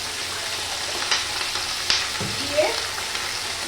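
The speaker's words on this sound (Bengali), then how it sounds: "এই দেখো ভেন্ডিটা আগে এভাবে একটু ভেজে নেব, ভেজে সরিয়ে নেব।" Okra pieces frying in oil in a pan on a home kitchen stove, a soft, steady sizzle with a few brief clinks and stirring sounds, fairly quiet and close, with no talking.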